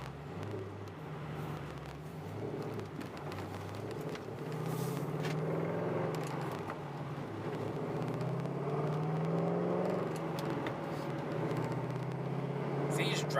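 Car engine fitted with Howards Rattler camshafts drives along at normal speed, a steady low rumble with a loping idle character that swells slightly as it moves, continuous throughout.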